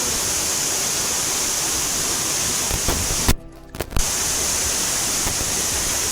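Shrashamliu waterfall roars as water falls, a loud, steady broadband rush that briefly drops out for a moment before resuming unchanged.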